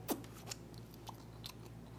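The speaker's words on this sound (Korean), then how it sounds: "너무 바삭거려." Close, faint crunches of someone biting and chewing crispy fried seafood with a crackly shell, a few sharp crisp bites spaced over a couple of seconds against a quiet background.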